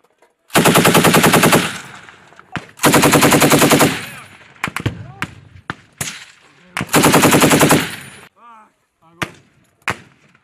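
Machine gun fire during Marine training: three long, loud automatic bursts of rapid shots, separated by single sharp gunshots, with shouted commands in between.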